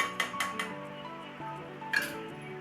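A lid is set onto a pot of chole masala, giving a few light metallic clinks and taps close by, with a brief clatter near the end and no talk.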